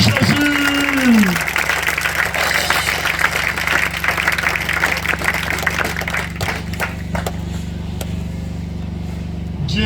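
A church congregation at a youth consecration service applauds and cheers for Jesus, a dense, steady wash of clapping and crowd noise that holds for the whole stretch, with a brief tonal sweep near the start.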